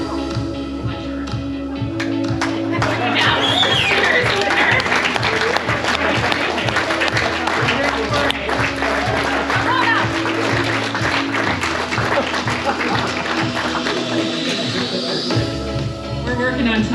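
An audience claps steadily at a pickleball awards banquet, a dense sustained round of applause lasting throughout, with a voice and background sounds mixed in.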